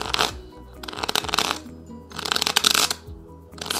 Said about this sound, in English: But for now, riffle shuffle.